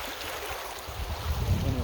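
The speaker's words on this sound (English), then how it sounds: "Plenty of water flowing through there." Water flowing through a high desert irrigation ditch among tall sagebrush, a close, continuous rushing gurgle with wind noise, swelling slightly toward the end.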